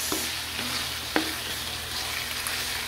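Pork steak sautéing with garlic and onion in a hot pan, a steady close sizzle under a few sharp scrapes and clinks of a spatula stirring at irregular intervals.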